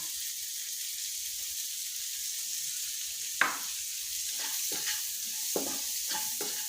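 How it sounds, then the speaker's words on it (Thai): Chilies stir-frying in oil for Thai salt-and-chili shrimp, a steady hissing sizzle with several crisp spatula scrapes against the pan, close by and without speech. "คั่วจนพริก โดนน้ำมันอีกสักหน่อยหนึ่งค่ะ"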